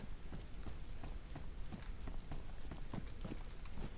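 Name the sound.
rain falling in the video game DayZ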